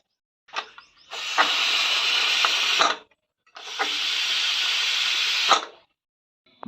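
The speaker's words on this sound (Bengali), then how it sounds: "এখন ডাল সংবার করব" Tempering for boiled dal lentils hisses loudly in two sustained sizzling bursts of about two seconds each, separated by a short pause, with no talking.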